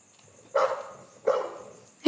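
A dog barks twice outdoors at night, two sharp, moderately close barks spaced about a second apart over a faint steady insect hum, with the start of a third cut off at the end.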